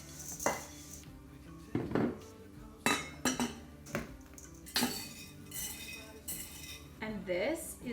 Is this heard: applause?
no